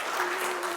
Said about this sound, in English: So give them a warm round of applause